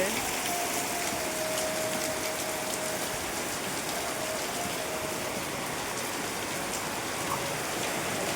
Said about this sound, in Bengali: প্রচুর প্রচুর হারে বৃষ্টি হচ্ছে।